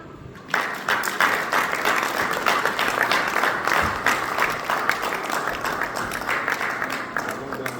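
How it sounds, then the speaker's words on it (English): An audience at a healthcare and medical expo in Abuja breaks into applause after a presentation, the clapping starting abruptly and continuing as a steady, fairly close wash of many hands. "Please, another round of applause for him."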